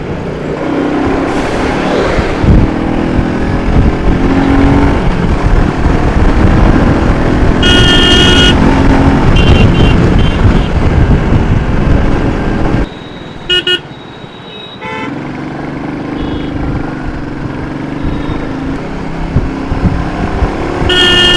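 A Royal Enfield Meteor motorcycle rides through busy traffic: a loud, continuous engine and road roar, with several car horns tooting and honking at intervals. Toward the end the noise briefly dips before the traffic rumble returns.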